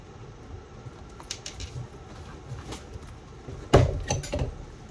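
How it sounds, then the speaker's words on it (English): Rivets being set into a leather shoulder bag, a sharp hammer-like knock followed by a few quieter taps close by, after some soft handling noise. "And now we can just set our rivets."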